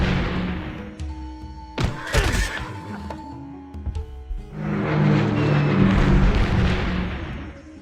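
Bombing run on an enemy city in the strategy video game Civilization 3: a sharp thunk and crackling burst near the two-second mark, then a long, loud rumbling roar of explosions that swells and fades out, with no talking.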